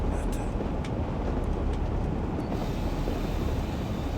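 Steady low rumble of a train running along the track in Train Sim World 2020, continuous and fairly loud, with faint high squeaks over the first half.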